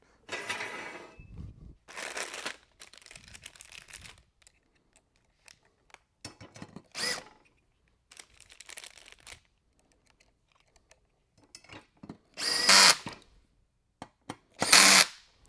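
A power drill tightens fasteners while installing an Apex two-leg mount, bursts of whirring and ratcheting of varying length separated by quiet gaps, loudest in the final few seconds; no talking.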